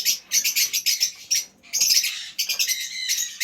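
Mutation lovebirds at a bird sale, a dense run of bright, rapid chirps and squawks up close, broken by short pauses and brief wing flutters.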